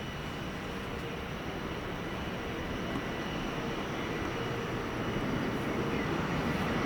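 An airliner takes off at Manchester Airport, heard as a steady, broad engine roar that slowly builds in loudness across the whole stretch.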